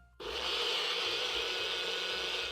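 A Nutribullet blender whirs as it purees habanero peppers in liquid for a lacto-fermented blueberry habanero hot sauce. The loud, steady motor drone kicks in abruptly after a moment of quiet and holds without a break.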